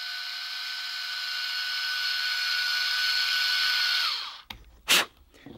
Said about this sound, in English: using this 5/64 inch drill bit, I drill a hole